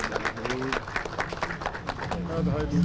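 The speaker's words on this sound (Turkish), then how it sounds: "Alkışlarla inşallah açılışımızı yapalım." Applause from a small crowd at a shop opening in Elazığ, Turkey, steady clapping mixed with voices and chatter throughout.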